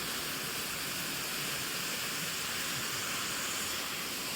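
Water pours down the rocks at the fourth well of the Yellandu Seven Wells waterfall, a loud and steady rushing roar that fills the whole stretch with no voices.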